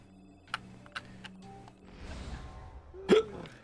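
A single sharp hiccup near the end, preceded by soft clicks and faint game ambience during an Assassin's Creed playthrough, with no talking.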